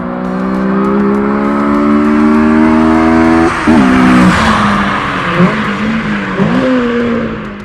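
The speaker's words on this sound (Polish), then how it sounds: "To co tak przeleciało to Honda Civic Type R, wersja z Japonii" A Japanese-market Honda Civic Type R sedan with a K20A engine passes by, a loud high-revving four-cylinder wail with steady harmonics that dips sharply as it shifts gears several times, close and alone.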